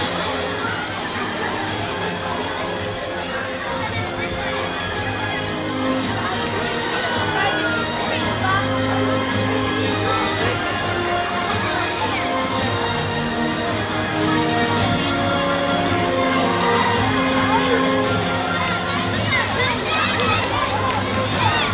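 A large crowd at a school awards ceremony for a clean seas event keeps up a long, continuous roar of applause, cheers and mixed voices as students stand on stage.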